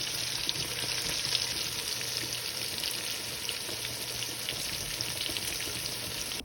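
Oxtails for Jamaican curry oxtail brown in a pot, producing a loud, continuous close sizzle with a low hum underneath and no talking.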